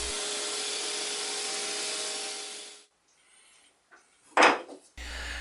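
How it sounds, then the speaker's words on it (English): Flat surfaces of wooden clock pieces are sanded with fine grit sandpaper before varnishing, giving a steady, close, broadband rasp for about three seconds. A brief quiet follows, with a short scuffing burst near the end. "I want to go over all the flat surfaces one last time with fine grit sandpaper"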